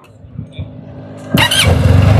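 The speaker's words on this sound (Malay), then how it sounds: "2 cylinder engine geng. Dengar bunyi dia macam mana geng." A SYM TTLBT 508 two-cylinder motorcycle engine idles quietly, then kicks into a loud, close rev partway through that stays high and rough to the end.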